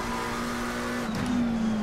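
A race car in Assetto Corsa Competizione on PS5 being pushed hard, its engine droning steadily at a high pitch with a brief rising note and tire squeal, alone and without talk.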